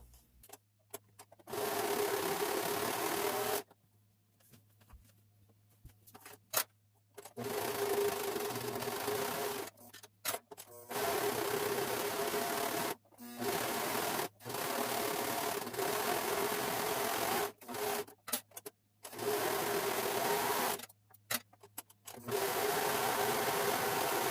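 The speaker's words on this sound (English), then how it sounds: "I just take it to my serger and cut and serge at the same time" A serger trims and overlocks fabric for an Irish dance dress skirt frame, its motor whirring in a series of close, loud bursts separated by brief pauses.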